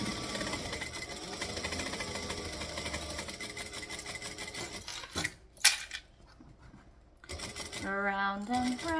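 Sewing machine stitching and back-stitching fabric while assembling a piece, a steady close mechanical whir for about five seconds, then brief stops and short bursts, with a voice speaking near the end.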